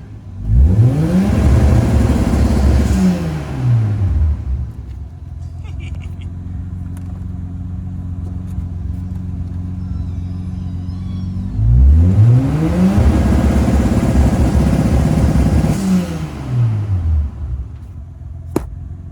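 Nissan Skyline R33 GTS-T engine with a new triple-core radiator revving loudly in two long sweeping bursts that climb and fall, separated by a steady idle, close by.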